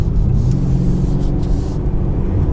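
Mercedes-Benz GLC 220d's OM654 diesel engine drones steadily as the car accelerates smoothly on a rough winding road, heard from inside as a close, loud, continuous low rumble with no speech.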